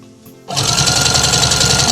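A sewing machine starts abruptly and runs at a steady, loud, fast hum, stitching through fabric, yarn and fur for a crocheted saddle blanket.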